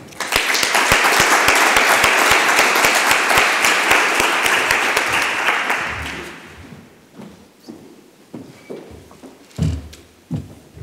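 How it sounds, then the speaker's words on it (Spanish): An audience welcomes a round-table panel at a university engineering faculty breakfast with loud, dense applause for about six seconds, then it thins into scattered claps, thumps and movement noises. "ayudadme a darles un aplauso para la bienvenida a esta mesa redonda"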